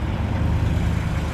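A loud truck passes along Main Street in Daytona Beach, Florida, its heavy low rumble steady and close throughout with no voices.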